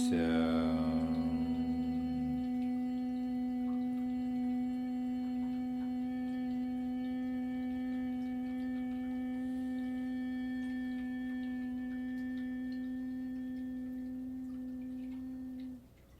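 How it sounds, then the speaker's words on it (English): A steady meditative hum holds one low, even pitch with rich overtones for about sixteen seconds, alone and unbroken, before fading out at the very end. "And then again start the humming sound."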